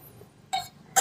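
Two short, bright glass clinks, close and crisp, as a drinking glass is picked up while making a caramel macchiato at home, separated by a brief quiet gap.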